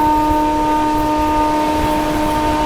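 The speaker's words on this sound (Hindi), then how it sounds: "और बगल से क्रॉसिंग हो रही है अमरकंटक एक्सप्रेस दुर्ग भोपाल" Amarkantak Express, a Durg–Bhopal passenger train, rolls past on the adjacent track near Narmadapuram station, heard from aboard the Delhi–Yeshwantpur Duronto: a steady, loud rumble of wheels with a sustained multi-tone horn throughout.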